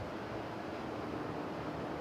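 A wind gust during an outdoor disc golf throw, a steady broadband rush of air against the microphone with no talking over it.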